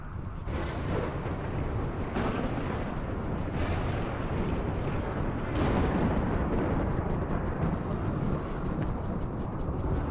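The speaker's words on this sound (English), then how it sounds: "Dry thunderstorms, just the worst." Thunder rolling through a dry thunderstorm in the colony-building game RimWorld, a continuous low rumble with no rain, swelling in a few broad surges over about ten seconds with no talk.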